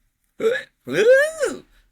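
A voice imitates a hiccup with a short vocal hic, then a longer rising and falling vocal noise after a brief pause, close and clear against silence.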